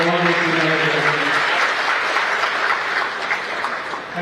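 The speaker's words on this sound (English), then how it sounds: "please give a big round of applause" Audience at a live government event gives a round of applause, a steady dense clapping that fades slightly near the end, with a voice briefly heard at the start.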